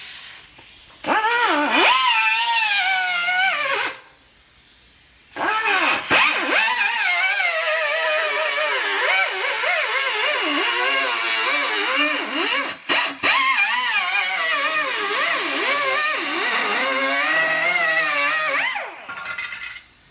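A power cutting tool grinds through a riveted steel body panel on a Chevy pickup, a loud, harsh whine with wavering pitch that runs in long bursts, pausing briefly twice.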